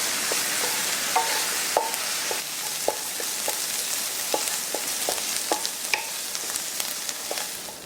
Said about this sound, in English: On a pan over medium heat, we're gonna cook diced onions in 2 tablespoons of butter